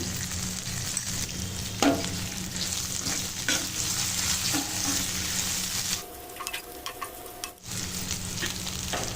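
A tempering of spices and asafoetida sizzling in ghee in a pan, heard as a steady, close crackling hiss with light utensil taps. It briefly quiets, then the sizzle resumes.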